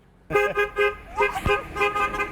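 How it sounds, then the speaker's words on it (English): A loud truck horn honks in several short repeated blasts, close by, with a brief pause and a muffled thump between them. "I wonder if this trucker's gonna honk at me."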